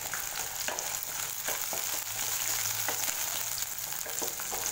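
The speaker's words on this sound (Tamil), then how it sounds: "மீடியம் ஃப்ளேம்லேயே வச்சு வதக்கி வச்சுக்கோங்க." Garlic, dried red chilies and green chilies fry in oil over a medium flame for a mint-coriander chutney, giving a constant close sizzle broken by light stirring taps of a spoon; there is no talking.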